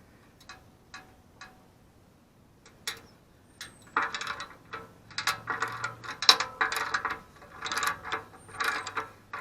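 A 15 mm ratchet working on the muffler clamp of a Harley-Davidson Street Glide with a Milwaukee-Eight engine, a few faint clicks at first, then a run of quick, close ratcheting clicks.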